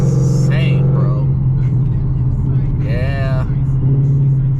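A 2019 Ford Mustang GT with its mufflers deleted rumbles loudly from inside the cabin while driving, a deep, steady engine drone under constant road noise. A voice is audible over the engine at times.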